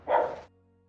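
Rescue dogs give a single short, loud bark burst up close, with quiet background afterward.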